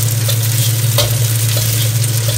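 Garlic frying in a pan is stirred for spaghetti sauce, giving a steady loud sizzle with a constant low hum beneath and a few scraping clicks from the spatula.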